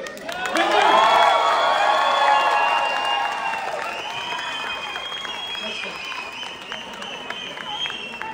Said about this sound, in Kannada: ಒಂದು ಕಡಕ್ ಸ್ಟೈಲ್ ಜೋರಾಗಿ ಚಪ್ಪಾಳೆ ಬರಲಿ